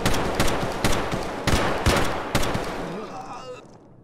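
Bursts of rapid gunfire in the shooter game Escape from Tarkov, several sharp cracks and short volleys spaced irregularly, loud and close, with voices talking over the shooting as it trails off toward the end.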